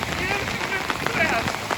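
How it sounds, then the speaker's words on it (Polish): Hail falling on a street in San Sebastian during a downpour, a constant pattering of ice on surfaces with sharper individual hits, quiet and close, with people talking faintly. "Pada grad, godzina policyjna."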